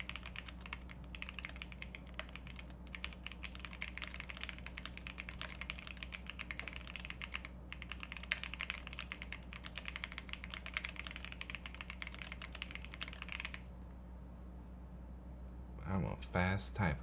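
Rapid, continuous keystrokes clatter on a computer keyboard during a live React and C++ coding session, a steady close-up patter that thins out near the end.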